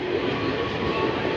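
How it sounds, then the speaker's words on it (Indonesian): A steady rumbling roar of a KRL commuter electric train bound for Angke running nearby at Sudirman Station, continuous and dense with no talking. "Nah, ini ada kereta lagi nih."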